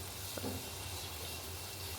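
Chopped onions frying and stirred in a pan give a steady, soft sizzle at close range, with a faint low hum underneath and a couple of small scrapes early on.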